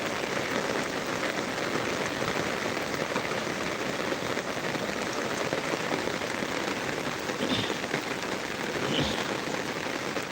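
Steady rain falls outdoors, a dense, even patter on surfaces that continues without a break, with a couple of faint clicks near the end.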